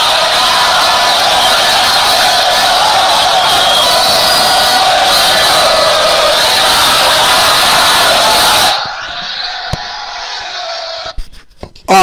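Crowd at a rally, a loud, dense roar of voices and shouting that fills most of the clip, then cuts out to near silence.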